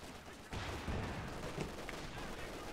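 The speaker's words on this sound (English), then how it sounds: "Grenadiers opening fire on target" Distant, muffled infantry rifle fire from German Grenadiers in a Company of Heroes 2 four-versus-four battle on the Road to Arnhem map, a faint continuous crackle of shots buried in a dense battlefield din.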